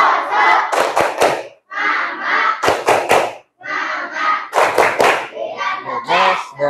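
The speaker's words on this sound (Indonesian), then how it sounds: "coba kita tepuk semangat dulu" A classroom group at an Indonesian on-the-job coding and AI training session performs a rhythmic spirit clap, with sharp unison claps in short bursts between loud group chanting and shouts.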